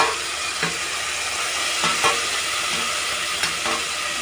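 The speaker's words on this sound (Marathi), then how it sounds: "कांदा बारीक करून लसून घेतले ती टाकून कढीपत्ता पण टाकायचा तेलामध्ये भाजून घेऊया" Chopped onion, garlic and curry leaves sizzle in hot oil with a steady, close hiss, dotted by a few soft spatula knocks and stirs, with no voices.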